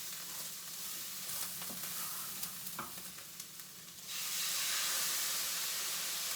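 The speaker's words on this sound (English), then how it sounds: "Watch out, that is popping and bubbling like a lot." Tomato sauce poured over a stuffed-pepper mixture sizzles, pops and bubbles in a hot pan, a steady close hiss with scattered crackles that swells louder and denser in the final seconds, with no voices.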